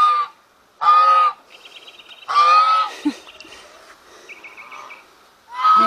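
A goose honks loudly and close by in a garden, giving four harsh calls spaced a second or two apart, with softer chirps and rustling in between.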